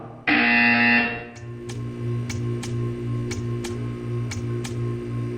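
A loud electronic buzzer in the video game Portal 2 blares for about a second, then a steady hum continues with regular ticking clicks pulsing under it.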